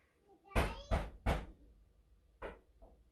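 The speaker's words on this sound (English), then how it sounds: "my beautiful little daughter's knocking on the garage door out there?" A child knocks on a garage door, three sharp loud thumps in quick succession, then a pause and two softer knocks, heard from a short distance in an otherwise quiet room.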